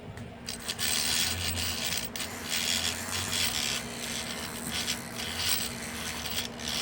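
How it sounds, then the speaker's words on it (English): An electric lock pick buzzes steadily against a simple lock held in a vise, a continuous close rasping vibration with slight pulsing throughout. "we're going to put our tension wrench in there. This is a simple lock. Stick our pick in there."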